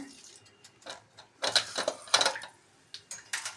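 Irregular crackling and popping bursts of mustard seeds spluttering in hot coconut oil, growing busier and louder with sharp snaps throughout.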